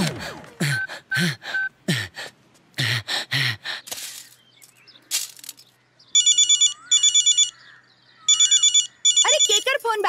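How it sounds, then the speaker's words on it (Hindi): A telephone rings in repeated electronic bursts, loud and close, after shouted talk between people in a dramatic scene; the ringing comes in four clusters of rapid trills. "अरे केकर फोन बाजी।"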